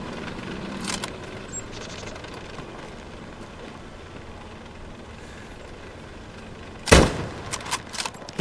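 Gunfire in the war game Hell Let Loose: one loud, sharp shot near the end cuts through a low battlefield rumble, with a few fainter cracks trailing after it and an earlier distant report.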